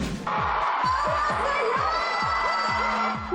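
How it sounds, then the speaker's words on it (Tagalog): Fans cheer and scream at a sold-out fan meeting for a South Korean actress, a loud continuous roar of high-pitched shrieks and whoops from a large crowd, close and sustained. "puno ng hiyawan ang sold-out at first-ever fan meeting sa bansa ni South Korean actress Kim Ji-won"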